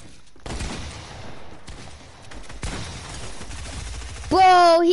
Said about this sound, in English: of course he uses an SMG